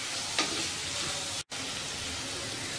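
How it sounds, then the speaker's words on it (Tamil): Onions and curry leaves sautéing in a pan for vegetable biryani give off a steady, close sizzle with a faint stirring scrape, broken by one very short dropout midway. "வெங்காயம் நல்லா கலர் மாறுற வரைக்கும் இதை நல்லா வதக்குங்க."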